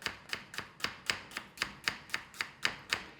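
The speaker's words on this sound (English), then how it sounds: "Then to slice the onions on a nice flat surface, we're just going to cut down and through all the way." A knife slices through onion on a flat cutting board, giving a close, steady run of about a dozen crisp chops at an even, brisk rhythm with no talking.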